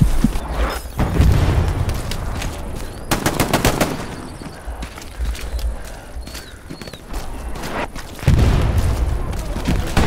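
Grenade explosions and gunfire in the Hell Let Loose shooter: heavy booms at the start and end, with sharp rapid shots and brief voices between them.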